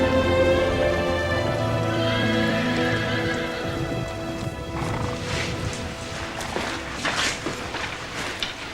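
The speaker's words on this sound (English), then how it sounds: "Looks like it's gonna rain." Rain falls steadily and heavily outdoors in a 1993 horror film, with a low rumble under the hiss early on and scattered louder splashes later; no one speaks.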